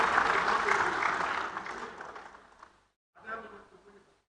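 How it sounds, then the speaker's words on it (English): An audience at an education event applauds loudly and steadily, then the clapping fades out, followed after a short silence by a brief second burst of clapping. "A big round of applause for them, ladies and gentlemen."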